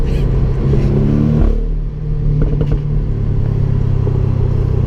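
A 2017 Porsche Boxster 718 S with a 2.5-liter turbocharged engine drones loudly from inside the cabin while driving, the engine note dipping briefly and then building again.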